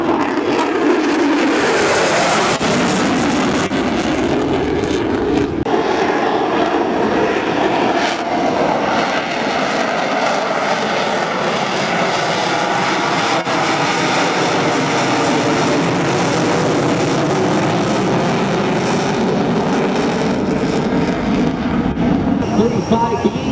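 An F-35B fighter jet with afterburners lit makes a vertical climb at the Oshkosh airshow, a loud, continuous roar that swells and shifts in pitch as it passes, with a crowd and announcer voice underneath.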